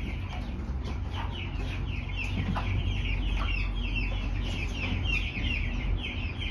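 A broody hen clucks repeatedly in soft, irregular bursts, close by, over steady background noise.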